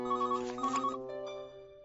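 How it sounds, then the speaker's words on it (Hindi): A cartoon telephone rings with a bright, repeating electronic trill, two quick bursts followed by a fading tone, alone with no talk. "वो ग्रेट एंड ग्रेटा होगी, फोन करके कह रही होगी कि उन्होंने नया जंपर बनाया है मेरे लिए"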